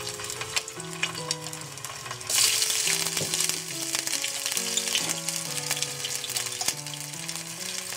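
Ginger and garlic paste sizzling in hot oil in a pan, a steady close frying hiss that flares louder partway through, with background music and no speech.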